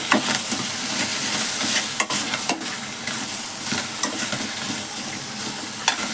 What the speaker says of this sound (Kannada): ಇವಾಗ ಟೊಮೊಟೊ ಹಣ್ಣು ಚೆನ್ನಾಗಿ ಫ್ರೈ ಮಾಡ್ಕೊಳ್ಳೋಣ